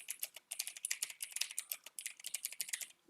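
Fast, crisp clicking of a computer keyboard as a chart title is typed, close and fairly quiet, in quick bursts with a brief pause near the end.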